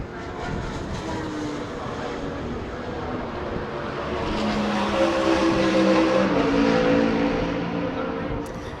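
Race cars, including mini prototypes, circulate at Rockingham during an endurance series race, a continuous broadband engine roar that swells louder in the second half, with a steady mix of nearby and distant cars.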